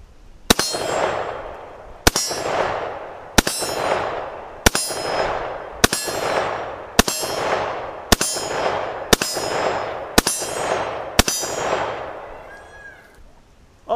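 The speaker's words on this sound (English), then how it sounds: "All 10 rounds expunged. Sounds like every single one of those hit" Ten sharp metallic clangs of rifle rounds hitting a half-inch AR500 steel plate ring out at a steady pace, each a loud gunshot-like crack followed by a bright ringing decay.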